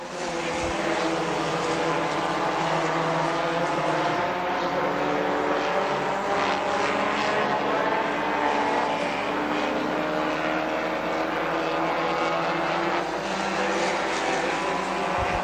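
Stinger race cars lapping during a championship race at Dixie Speedway, a steady, loud drone of engines carrying for the whole stretch without letup.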